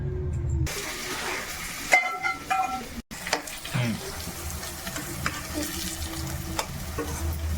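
Sweet corn fries in a pan, with a steady hiss and sizzle under scraping spoon strokes and clinks. The sound is close and continuous, with a brief dropout partway through and no clear talking.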